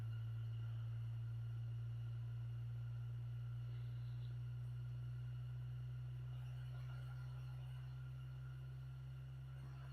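A Digital Designs VO-W700 12-inch PA subwoofer playing a frequency sweep in free air gives a steady, loud low bass hum that holds continuously throughout with no talk.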